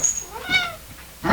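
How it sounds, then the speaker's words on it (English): A cat gives a single clear, rising-then-falling meow at close range, followed by a short burst of noise at the end. "Meow. Meow."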